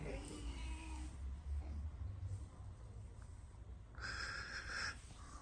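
A cat meows once, then again more loudly, close by, amid quiet background noise and faint voices.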